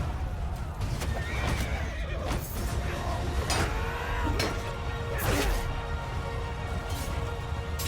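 Cavalry horses in a Mount & Blade Bannerlord battle neigh and whinny repeatedly over a steady clatter of galloping hooves, with loud bursts of clashing and whooshing battle noise mixed in throughout.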